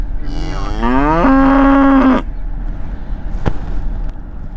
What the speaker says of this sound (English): look at their sweet little cow and calves.